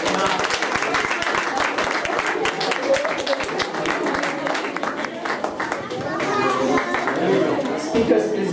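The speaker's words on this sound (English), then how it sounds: "we are grateful to all of you assembled here for encouraging us with a hearty applause" Applause and clapping from a crowd at a youth convention of a Vedanta society, sharp hand claps mixed with crowd chatter, children's voices and nearby talk, continuing unevenly throughout.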